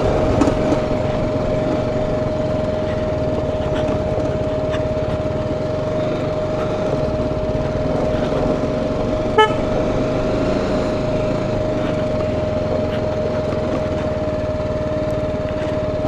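A BMW G310GS motorcycle engine drones loudly and steadily on the road while overtaking cars, with one short horn toot partway through.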